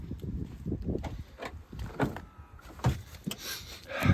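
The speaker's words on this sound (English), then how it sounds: "Open the door then, so have a look inside." A car door being opened on a three-year-old car, with several close mechanical clunks and handling sounds spread across the stretch and no talking.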